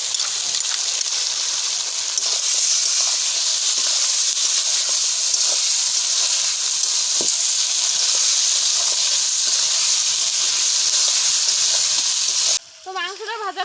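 Mutton fries in a pan with turmeric, ginger and garlic, a loud, continuous sizzle and steamy hiss that runs unbroken before dropping off abruptly near the end as a voice starts to speak.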